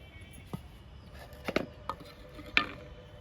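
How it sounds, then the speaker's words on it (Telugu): A knife chops cucumber into small pieces on a board, giving a handful of sharp, irregular chops close by against a quiet background. "కీర దోసకాయని ఇలా చిన్న చిన్న ముక్కలుగా కట్ చేసుకోవాలి"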